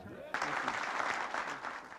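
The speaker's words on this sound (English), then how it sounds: "Clinton drew applause from the military brass." Applause from military officials greeting a presidential announcement by Clinton, a sudden burst of steady clapping from a crowd that continues evenly, heard at a moderate distance with some voices underneath.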